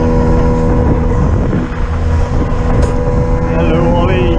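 An RNLI lifeboat from Porthcawl motoring back to station, its engine a loud, steady droning rumble with a tonal whine, heard up close throughout with faint voices in the background.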